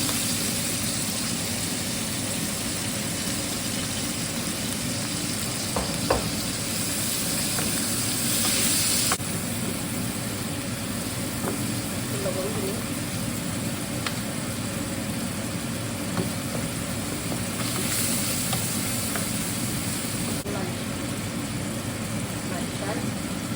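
Onions and green chilies sizzle in a frying pan, a steady crackling hiss that runs throughout while a person talks over it.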